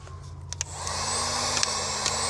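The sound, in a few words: heat gun melting solder sleeve on wires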